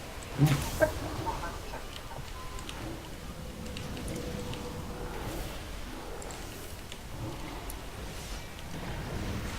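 A chicken clucking in World of Warcraft, heard as a short, clear cluck burst near the start followed by quieter fowl sounds over a low game background.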